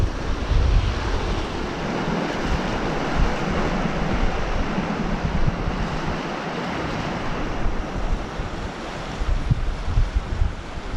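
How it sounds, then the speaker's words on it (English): Heavy surf crashes and washes continuously against a rocky shore under strong wind buffeting the microphone, a loud, unbroken roar of water and gusts with no voices. "You've got the odd wave coming in and it literally just piles and soaks the whole thing."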